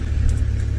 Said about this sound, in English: We just have a vehicle busy leaving.